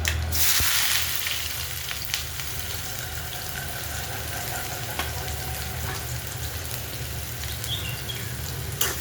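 Mustard seeds, cumin and finely chopped onion frying in a pan for tondli bhaji, a steady close sizzle throughout with a brief louder burst near the start and light crackles.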